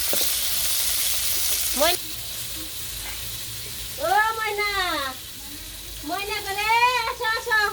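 Fish frying in a pan in a village kitchen, a steady broadband sizzle running underneath, with animal or bird-like warbling calls rising over it midway and toward the end.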